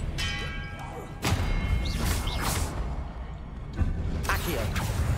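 Spell effects cast in the video game Hogwarts Legacy, with a sharp impact burst near the start and another toward the end, whooshing magical swishes between them, all over a steady ambient game bed with no talking.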